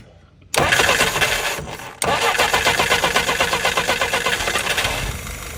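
Garden tractor engine, a YS 950 model, cranks and fires after a carburetor rebuild with a corrected throttle gasket, starting loudly, briefly stumbling, then settling into a steady rhythmic idle close by.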